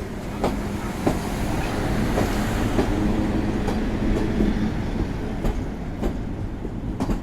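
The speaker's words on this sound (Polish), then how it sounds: "Pociąg z Krakowa do Warszawy." A train hauled by an EU07 electric locomotive rolls past steadily, its low rumble joined by rhythmic clacks of wheels over rail joints, loud and close throughout.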